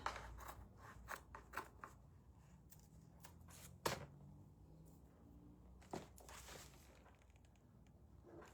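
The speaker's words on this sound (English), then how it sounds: "cut off any excess." Scissors trim excess paper from a Valentine's wall pocket decoration, giving faint, irregular snips and rustling cuts scattered across a quiet room.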